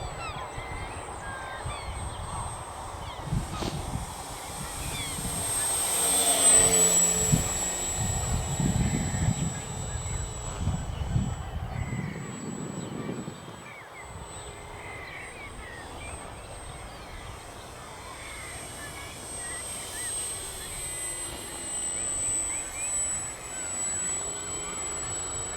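An FMS 1400mm Piper J-3 Cub radio-controlled model plane flies outdoors, giving a faint, steady high electric motor whine that fades in and out with distance, under wind rumble and occasional talk.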